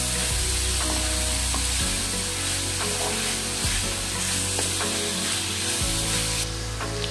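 Modak filling mixture being stirred in a hot pan for steamed Ganpati modaks, a steady loud sizzle and frying hiss with repeated scraping strokes of a spoon against the pan, close and continuous without talk.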